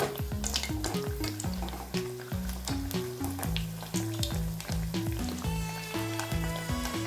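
Food fries in a pan with a continuous close sizzle and occasional stirring, under steady background music with no talk.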